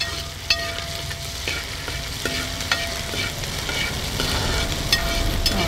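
Chopped green chillies fry in fish-flavoured oil for a Kerala-style tuna pickle, giving a steady close sizzle punctuated by occasional clinks as the pan is stirred.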